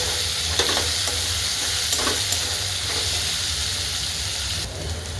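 Ginger garlic paste and two tomatoes fry for soybean kheema, giving a dense, continuous sizzle with soft scraping strokes from stirring. It sounds close and even throughout.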